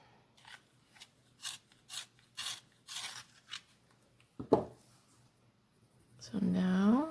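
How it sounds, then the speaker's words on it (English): A coloring pencil scrapes in a sharpener in a series of short rhythmic rasping strokes, fairly close and quiet, followed by a brief voice. "I'm going to sharpen it."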